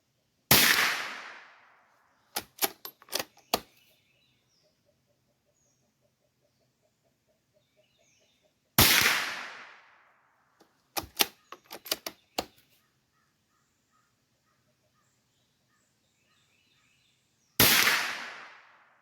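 Sharp .22LR rifle shots with standard ammunition crack out in three spaced bursts of several quick rounds each, every volley opening with a loud report and a decaying echo, then silence between strings.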